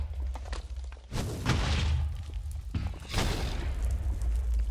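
Explosions in Minecraft on a volcanic island: two deep, booming blasts a couple of seconds apart, each with a rumbling, crackling tail over a low ongoing background.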